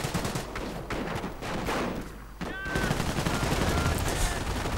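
Dense battlefield gunfire from a World War II strategy game, rattling MG-42 machine gun bursts and artillery fire in a continuous loud barrage with a brief lull near the middle.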